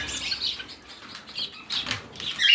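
Quick bursts of fluttering wings mix with faint high chirps from small birds, close by and irregular, with no voices.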